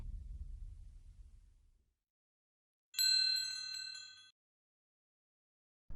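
After a low rumble fades to silence, a bright electronic phone ring chimes once, clear and close, then stops.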